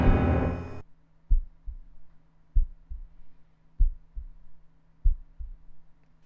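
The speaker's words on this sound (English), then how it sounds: "That's how my heartbeat feels right now, except a lot faster." Heartbeat sound effect in the horror video game Timore: a loud burst of noise, then slow, deep lub-dub thumps repeating evenly about every 1.3 seconds over a low hum.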